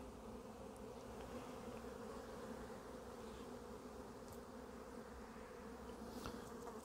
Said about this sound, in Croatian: Pčela radi.